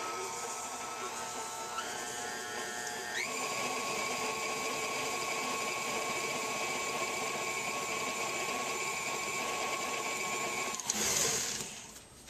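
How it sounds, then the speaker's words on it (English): Electric mixer blending softened butter with brown and white sugar, a steady whirring motor hum that shifts pitch as speed changes, running continuously and fairly close with no talking. "we're just going to combine them two in the mixer for a couple seconds"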